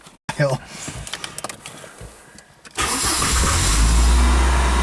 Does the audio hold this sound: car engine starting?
yes